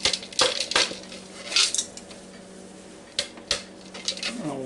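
Diced onions are dumped into a Ninja Foodi pot with several close scraping clatters of a utensil against the pot, in short bursts separated by quiet pauses.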